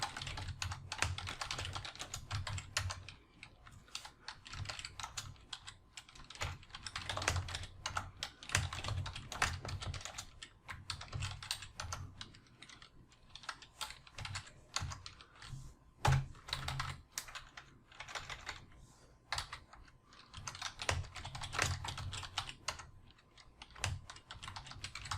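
Steady typing on a computer keyboard, with quick irregular bursts of keystrokes and short pauses running throughout, close and fairly quiet, with no talking.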